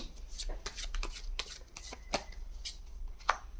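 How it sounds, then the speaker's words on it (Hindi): Chakra cards are shuffled by hand for a reading, giving soft repeated riffling and slapping sounds in uneven bursts, close and quiet with no talking. "आपके लिए 3 चक्रा कार्ड भी ले लेती हूँ"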